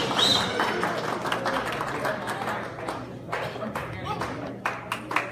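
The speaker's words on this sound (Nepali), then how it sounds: "कृपया कन्जुस नगरी तालीले उहाँलाई हौसला दिनुहोला" An audience at a performance event in America claps in a steady, fairly loud round of applause, with a voice talking over it at times.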